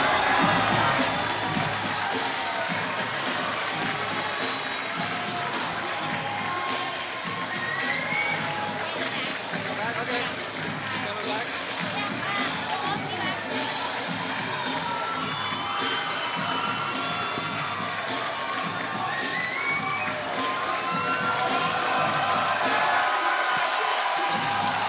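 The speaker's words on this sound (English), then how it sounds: "Nice standing ovation from the crowd." Large arena crowd at an MMA fight cheering and applauding in a standing ovation, a loud, dense, continuous roar with shouts throughout.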